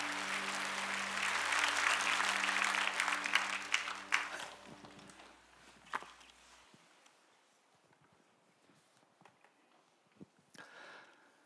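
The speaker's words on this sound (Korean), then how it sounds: "우리 진성욱 목사님 박수로 환영해 주시기 바랍니다." A church congregation at an evangelism rally claps to welcome a pastor, a dense burst lasting about four seconds that thins into scattered claps and near quiet, with a low hum underneath at first.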